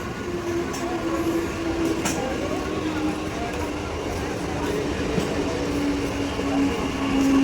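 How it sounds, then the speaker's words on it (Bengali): A Sealdah–Hasnabad local train pulls into Sondalia station on the Barasat–Hasnabad line at night, with a steady loud rumble of wagons, faint wheel clatter and a thin squeal running throughout. "three three five two nine up Sealdah Hasnabad local সন্ডালিয়া স্টেশনে প্রবেশ করলো"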